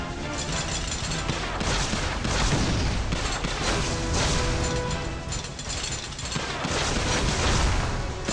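A rocket launcher fires in the mobile shooter game Ramboat 2 amid dense in-game combat: continuous rumbling booms, blasts and rattling gunfire pile up loudly with no pause across the whole stretch.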